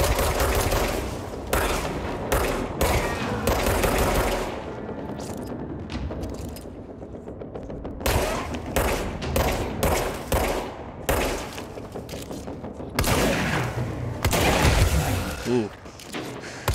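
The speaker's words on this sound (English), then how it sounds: "Oh god, I'm surrounded by exploding spores." Exploding spores in the video game Control, a run of sharp, loud bursts and booms going off in quick irregular succession, mixed with game combat noise and a voice talking over parts of it.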